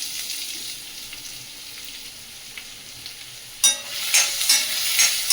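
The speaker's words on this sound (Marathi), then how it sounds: "कांदा फोडणीला घालते" Onion and green chilli tipped into hot oil for tempering, a quiet hiss that bursts into loud crackling sizzle partway through and keeps spitting to the end, no talking.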